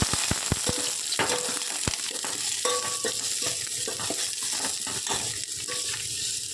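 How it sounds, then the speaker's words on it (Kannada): Oil, mustard seeds, cumin, curry leaves, dry chillies and onion frying in a pan for sambar, a soft steady sizzle dotted with sharp pops and crackles of spluttering seeds, no voices. "ನಾವು 1-2 ಟೇಬಲ್ ಸ್ಪೂನಷ್ಟು ಎಣ್ಣೆ, ಸಾಸಿವೆ, ಜೀರಿಗೆ, ಕರಿಬೇವು, ಒಣಮೆಣಸಿನ್ಕಾಯಿ, ಈರುಳ್ಳಿ ಎರಡನ್ನು 2 ನಿಮಿಷ ಆಗೋ ತನಕ ಫ್ರೈ ಮಾಡ್ಕೋಬೇಕು"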